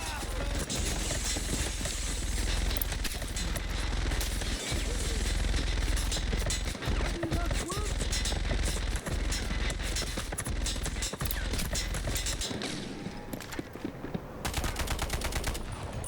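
Dense gunfire rattles in the shooter video game Delta Force, rapid sustained bursts and single shots fired continuously with a brief lull near the end.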